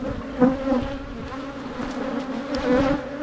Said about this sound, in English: The bees are bringing in a little bit of nectar here